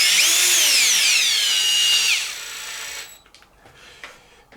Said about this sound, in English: I probably shouldn't be going back together with these with the drill